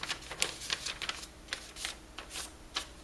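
Paper slid across a flat surface, a series of short, soft dry swishes and brushes at a quick irregular pace, close and fairly quiet, with no voices.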